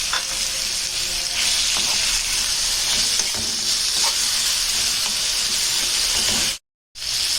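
Tilapia and vegetables, including green pepper, sautéing in a pan for a sayadiya fish tray, a loud, steady close-up sizzle with crackling spatter and stirring throughout, cutting out abruptly near the end.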